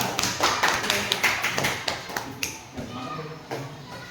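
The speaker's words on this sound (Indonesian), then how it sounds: "beri tepuk tangan untuk Nabila" An elementary school class claps for Nabila, a short, uneven burst of hand claps from a small group that thins out into scattered taps and shuffling, with some voices underneath.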